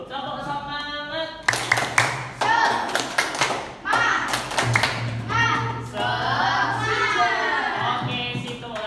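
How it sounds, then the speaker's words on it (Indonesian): A classroom of pupils does a rhythmic spirit clap during a microteaching lesson, sharp patterned bursts of hand claps and thumps filling most of the stretch, with a voice leading at the start and chatter around it. "Kita tepuk semangat terlebih dulu."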